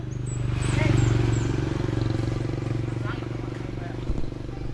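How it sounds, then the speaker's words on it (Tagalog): A motorcycle engine drones steadily close by on a Philippine roadside, rising a little as it passes, while people talk over it. "Bantayan ay motor."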